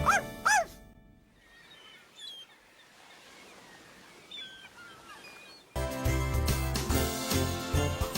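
Puppy in a children's TV advert giving a couple of short high yips at the start, followed by a quiet stretch and then loud jingle music.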